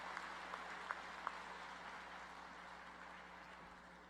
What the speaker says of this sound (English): let's give the University Choir another round of applause.